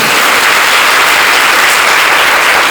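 Dense, loud applause from a large audience at a religious birth-star anniversary gathering, continuous and even throughout with no pauses.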